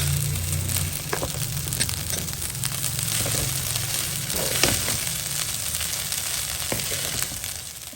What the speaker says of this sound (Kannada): ಇವಾಗ ಅನ್ನ ಹಾಕ್ಕೊಂಡಾದ್ಮೇಲೆ ಚೆನ್ನಾಗಿ ಮಿಕ್ಸ್ ಮಾಡ್ಕೊಳ್ಳೋಣ